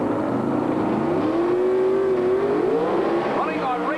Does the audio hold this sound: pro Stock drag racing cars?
yes